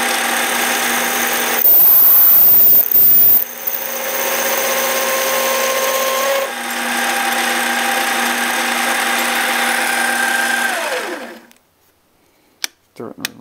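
A lathe runs at about 1400 RPM with a steady whine and mechanical hum, loud and close, shifting briefly before winding down and stopping near the end, followed by a few faint clicks.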